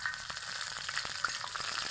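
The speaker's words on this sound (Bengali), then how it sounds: "তেল গরম হয়ে গেছে, আমি ফোড়নে দিব 2টা তেজপাতা, দিয়ে দিব কিছুটা কালো জিরা," Bay leaves, black cumin and green chillies temper in hot oil for a ridge gourd curry, a close crackling sizzle with quick repeated pops and spatters.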